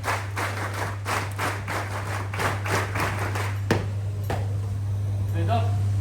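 Cadets clap at a prize distribution ceremony, a run of brisk, fairly even handclaps that stops partway through and gives way to a steady hum and a brief voice.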